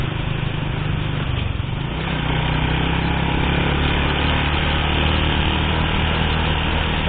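A 100 cc motorcycle engine climbs uphill at high speed on a rural route, a steady, loud, close drone with a slight dip in the first two seconds before holding level.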